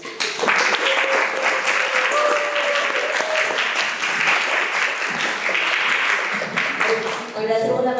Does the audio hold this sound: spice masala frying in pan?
no